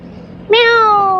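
A cat at a busy fish harbour lets out one loud, clear, drawn-out meow close by after a moment of quiet background.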